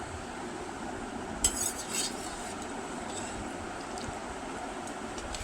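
A ladle scraping and clinking against a pot while rohu fish curry with potatoes is scooped out, a couple of sharp metallic taps over a quiet kitchen hum.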